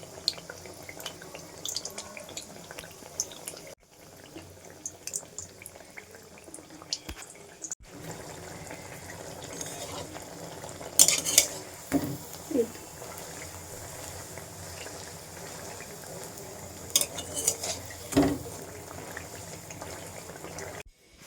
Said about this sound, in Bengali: তেল কিন্তু ছেড়ে কড়াই থেকে উঠে পড়ছে আর আস্তে আস্তে করে ফুলছে